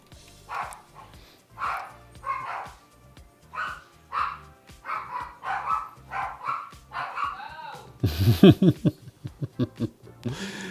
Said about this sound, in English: I'm just listening to her carry on with the dogs.